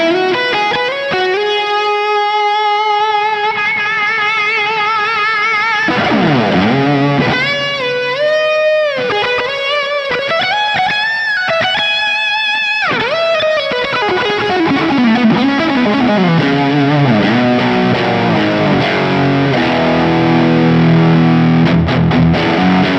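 Distorted electric guitar through a Fractal reverb effect, sustained chords and melodic lead lines ringing out with a lingering spacious tail, loud and continuous throughout.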